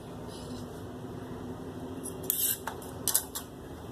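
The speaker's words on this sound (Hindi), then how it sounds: "ये देखिए मैंने इसको यहाँ से काट दिया" Scissors cut through kurta sleeve fabric in two short snipping bursts near the end. Before them is a quiet stretch of room hum.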